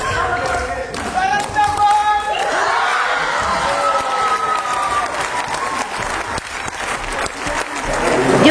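An audience at a touring dance show in the Comoros applauds loudly, dense sustained clapping mixed with crowd noise and cheering, while music and a voice carry on over the top.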